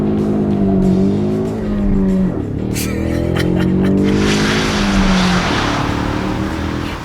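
Ford Mustang EcoBoost accelerating hard from 0 to 100 km/h, its loud engine tone climbing through the revs, dropping sharply at each gear change, then climbing again, heard from close by without talk.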